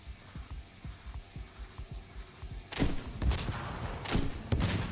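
Submachine gun fire in The Division 2 shooter, heard first as a quick run of light, rapid shots, then louder, denser bursts that carry through to the end, with no talk.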